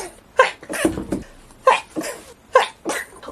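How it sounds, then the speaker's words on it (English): Sneezes set off by closet dust: three sharp, close bursts, each followed by a softer breathy after-sound, repeating in quick succession. "Oh my god, I can't stop sneezing."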